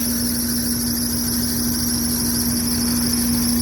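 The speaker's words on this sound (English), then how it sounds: "I hear that squealing. That is a belt that needs to be adjusted." A high, steady squeal from a loose engine belt rides over an idling RV engine's continuous rumble, constant and close, with no voices.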